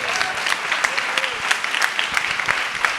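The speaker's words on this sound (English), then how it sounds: "Big round of applause for Damon Locks." An audience claps steadily through a visiting artists and scholars lecture event for a low-residency MFA program, a dense, close wash of hand claps with no voices over it.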